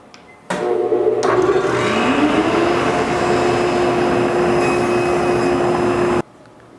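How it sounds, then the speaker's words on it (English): A table saw, its blade lowered to a sixteenth of an inch, nibbles wood for a sliding dovetail on a Shaker table, running as a loud, steady whirring drone for several seconds before stopping abruptly. "I've lowered my blade to a 1/16 of an inch, and all I'm going to do is nibble away all four sides of this"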